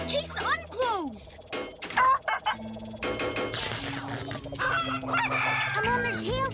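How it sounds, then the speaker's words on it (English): Cartoon chickens cluck, squawk and crow in a busy animated chase scene, with bright repeated calls over music, and a voice speaks briefly. "We're chasing down some chickens."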